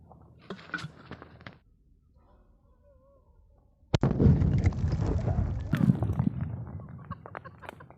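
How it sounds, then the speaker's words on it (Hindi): A sutli bomb firecracker goes off under a clay pot in a sudden loud blast, followed by several seconds of rumbling, crackling debris and commotion. Faint activity comes before the explosion. "और इसके नीचे हमने रखा है एक सूतली बम"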